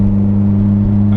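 A car engine warming up at idle hums steadily with a low, even drone and no change in pace.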